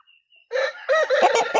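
A native Asil rooster gives a loud, close burst of clucking and crowing-like calls lasting about a second, after a faint high tone in quiet surroundings.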